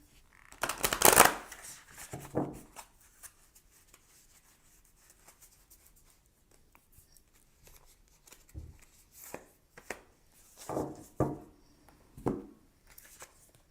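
Oracle cards being shuffled by hand in a quiet room, with a loud riffle burst at the start followed by softer intermittent rubbing and several more crisp shuffling bursts later on.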